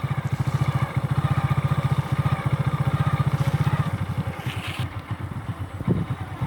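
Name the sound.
motorcycle engine running while riding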